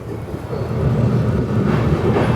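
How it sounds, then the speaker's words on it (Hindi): Maharashtra Express at platform 5 of Nagpur Junction, a loud, steady low rumble of the train close by with a faint rising hum, and nobody speaking. "यहाँ पे प्लेटफॉर्म नंबर 5 पे खड़ी है महाराष्ट्र एक्सप्रेस"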